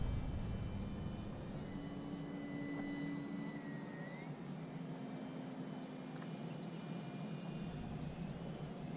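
A Maule M7 airplane engine runs at full speed in flight, a constant loud droning roar with a steady hum that holds unbroken from start to end.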